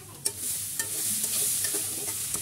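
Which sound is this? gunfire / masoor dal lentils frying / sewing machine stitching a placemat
masoor dal lentils frying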